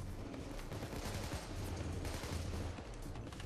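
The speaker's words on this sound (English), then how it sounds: "I'm giving you guys covering fire." Gunfire rattles in the co-op heist video game Payday 2, with dense, overlapping bursts of shots forming a continuous fusillade that sounds fairly quiet and distant, with no clear voices.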